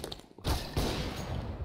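AK-47 gunfire in CS:GO rings out suddenly after a quiet moment, a loud close burst with a second crack soon after, then ringing rapid shots that fade.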